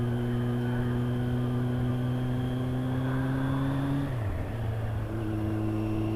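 A recently repaired motorcycle out on its first ride in months, its engine holding a steady close drone with a continuous wind rush; partway through the pitch drops briefly as if shifting gear, then settles back to a slightly different even note, with no talking.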